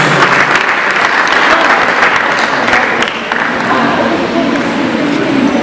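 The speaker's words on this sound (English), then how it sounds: "Please clap for them one more time." Loud, dense applause from the audience at a 2021 skills development center graduation, continuous clapping from a large crowd that dips briefly midway and then carries on.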